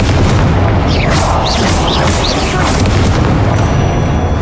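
Confringo spell explosions in Hogwarts Legacy, a loud, dense booming roar of blasts and rumbling impact noise running throughout, with a voice talking underneath.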